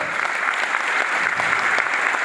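Loud, steady applause from an audience at a speech event honoring a guest, dense clapping with no voices over it, lasting the whole short stretch.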